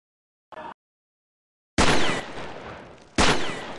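An M4 Super 90 shotgun fires in a video game: after a brief click, two loud, close blasts ring out about a second and a half apart, each trailing off in a decaying echo.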